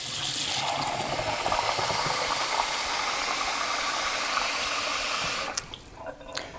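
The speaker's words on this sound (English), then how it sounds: "And we'll just carefully pour it in here so we don't get any in the other pan." Hot water pours steadily into a baking pan set in an oven for dulce de leche, a continuous close rushing splash that stops abruptly near the end, leaving a few faint clinks.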